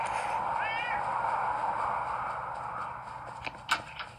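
A cat meows over a continuous background murmur, followed by a few soft thumps and taps near the end.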